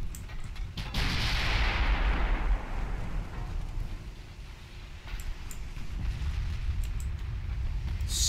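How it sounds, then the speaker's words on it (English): Heavy 15-inch naval guns firing in the warship game Ultimate Admiral Dreadnoughts, one deep booming blast that rolls into a long rumbling roar, followed by a low sustained battle rumble with faint distant pops. "we can obliterate the light cruiser with our own 15-inch guns"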